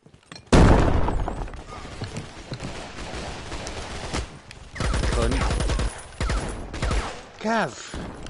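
Loud, rapid bursts of gunfire in a VR shooter game, with a sudden opening volley followed by repeated clusters of shots and shattering impacts, with people talking between and over the shooting.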